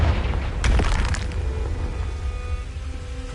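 A Confringo spell in Hogwarts Legacy detonates with a loud booming blast and crackling burst, then fades into a ringing tail.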